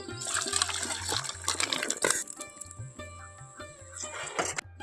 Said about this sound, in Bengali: এখন আমি আমলকিগুলোকে একটা পাত্রে ঢেলে নেব